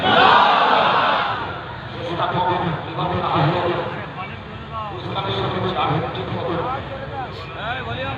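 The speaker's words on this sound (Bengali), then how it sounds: "একটা আওয়াজ শুনতে চাই তাকবীরে দরিদার দেন তাকবীর" Crowd at an annual madrasa jalsa religious gathering in Uluberia, shouting takbir together in a loud massed chant that swells and fades in repeated waves, with a voice over a microphone between them.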